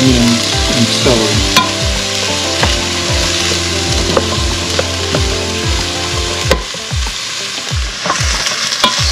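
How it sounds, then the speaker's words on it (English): Onions and celery sauté in three tablespoons of bacon fat for clam chowder, a steady loud sizzle with repeated scraping and stirring strokes throughout. "I put 3 tablespoons of bacon fat to saute onions and celery."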